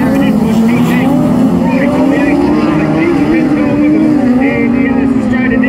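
Race cars compete on track in a ladies' class 8 national race, with a loud, continuous engine drone whose pitch wavers slightly as the cars power along close by.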